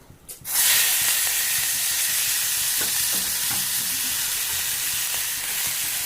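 Chopped vegetables drop into hot oil with mustard seeds and burst into a loud, steady sizzle that starts abruptly and holds close and even, with faint scraping as a stick stirs them.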